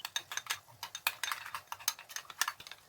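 A spoon stirs a yogurt and garam masala mixture with crushed black pepper for egg curry, giving quick, rhythmic clinks and scrapes against the bowl, close and moderately quiet.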